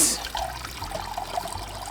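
Potatoes dropped into cold water in a pot before boiling: a splash at the start, then a short burst of trickling, gurgling water that fades over about two seconds.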